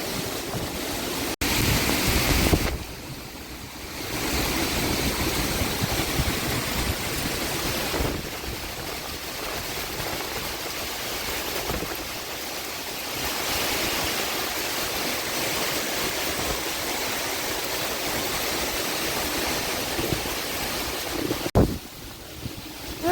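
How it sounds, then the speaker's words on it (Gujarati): Heavy rain roars steadily with gusting wind surging and easing, a dense continuous wash of noise with no voices. "પવન અતિશય છે વરસાદ વરસાદ છે પવનનું જોર બહુ છે"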